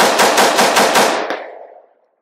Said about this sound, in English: let's see how much flatter this thing shoot with more high pressure blow here